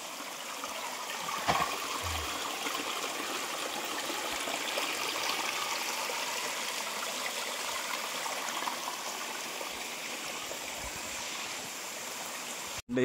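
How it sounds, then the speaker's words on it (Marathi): Small waterfalls tumble down a hillside on the climb to a hilltop temple, giving a steady rushing flow of water heard alone with no talk throughout. "आता तुमका म्हणते ना छोटे छोटे धबधबे"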